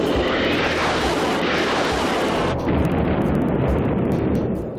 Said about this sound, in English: Its amazing 30mm 7-barreled cannon is the most powerful gun ever to take to the